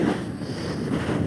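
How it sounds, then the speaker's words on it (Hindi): Cold mountain wind blows in a continuous loud rush with buffeting gusts against the microphone, alone and without speech, on a high-altitude route between Pangong and Hanle. "बहुत ज़्यादा ठंडी हवा चल रही है"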